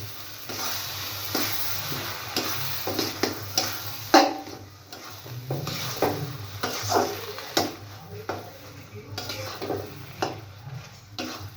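Cooked masoor lentils are stirred and mashed in a hot pan for a lentil bharta, with repeated scraping strokes of the spatula over a steady sizzle, close and fairly loud, with no talking.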